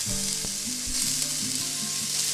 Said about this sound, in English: take your block of tofu and crumble the tofu into the pan